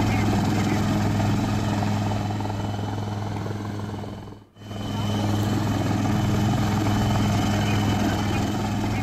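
A rescue helicopter flies over flooded villages near Ashti in Beed, its rotor making a loud, steady, close drone that briefly dips and returns midway.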